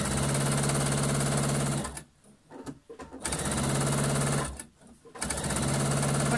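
A sewing machine stitches fleece fabric in two loud, steady runs, with a brief pause between them where the fabric is handled.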